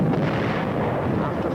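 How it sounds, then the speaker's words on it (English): Heavy WW2 artillery fire during the battle of San Pietro: a loud, unbroken roar of overlapping blasts and deep rumble that never lets up, with no voices. "Our own artillery was brought to fall within 100 yards of our front-line elements"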